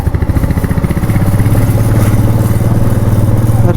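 A nearby motorcycle engine runs steadily on a mountain road trip, its rapid, regular pulsing thump loud and constant throughout, with no talking over it.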